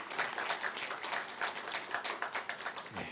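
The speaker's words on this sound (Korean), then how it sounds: "잠깐 자리에서 일어나 주시면 우리 환영의 박수 드리도록 하겠습니다." Warm welcoming applause from a Korean church congregation at a Sunday worship service, many hands clapping in a loose, pulsing rhythm at moderate volume, thinning out toward the end.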